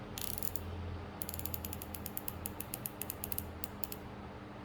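Drag clicker on a Shimano Sahara spinning fishing reel, heard up close as a quick run of sharp, light mechanical clicks that start, pause briefly, then resume in an uneven rapid series, alone with no voices.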